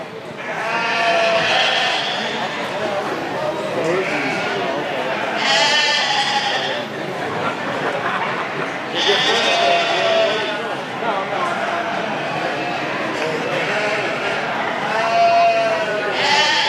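A Dorset yearling ewe bleats repeatedly in a sale ring at a showcase sale, loud wavering calls every few seconds, with other sheep bleating and people talking over the steady barn noise.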